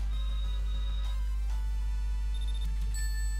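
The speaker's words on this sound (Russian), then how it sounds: "Домофон звонит." An intercom door buzzer rings in repeated electronic tones over a loud, constant low hum, with no voices present.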